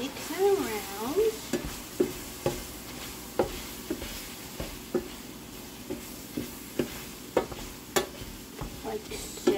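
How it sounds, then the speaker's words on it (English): Food being stirred in a pan during meal prep, with a low sizzle underneath and repeated scraping, clacking utensil strokes in an irregular rhythm, close and clear. "just gonna mix it around"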